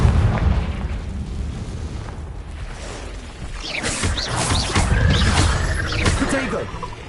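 Confringo spell blast in the Hogwarts Legacy video game, heard as loud, rumbling booms with crackling bursts over dense game noise and a voice.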